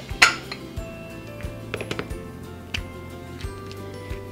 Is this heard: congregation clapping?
no